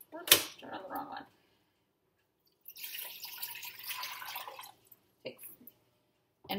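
Filtered water pours from a container into a big pot in a home kitchen, a soft splashing stream lasting about two seconds after a few clinks and quiet talk.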